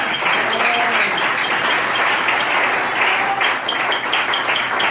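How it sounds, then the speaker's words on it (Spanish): A church congregation breaks into loud, sustained applause, steady dense clapping filling the room for the whole stretch with a faint voice or two beneath. "Dale un fuerte aplauso al Señor."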